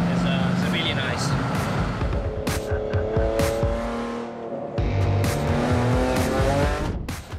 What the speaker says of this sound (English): The noise of the engine that is so gorgeous and so exciting is really nice.